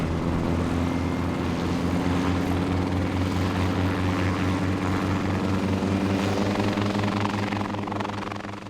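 A light aircraft engine drones loud and close throughout, a steady propeller throb with a pulsing low rumble during a giraffe conservation flight in Namibia, with no talk.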